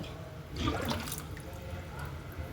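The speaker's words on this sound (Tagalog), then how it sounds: "Aalisin ko na yung tubig" Water drains from a container with a steady watery trickle and gurgle, rising to a louder splash midway before settling back to a continuous flow, close by.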